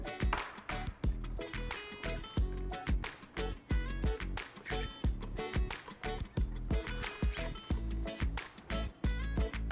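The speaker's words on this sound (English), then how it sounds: "Now we're gonna go ahead and add our eggs. And we're going to whisk that together." Eggs being whisked together in a bowl for cinnamon streusel muffin batter, a loud, close, fast rhythmic beating that keeps an even pace throughout.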